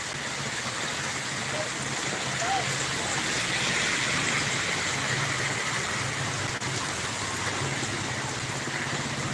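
Steady rain falls continuously, a dense even hiss with a low rumble beneath, unbroken throughout.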